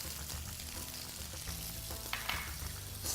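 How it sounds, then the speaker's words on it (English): New potatoes sizzle steadily in a hot pan while being tossed, with continuous frying crackle and a few sharper scrapes and clatters of the pan near the end. "we're just going to keep tossing those for about 4 or 5 minutes"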